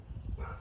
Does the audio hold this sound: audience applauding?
no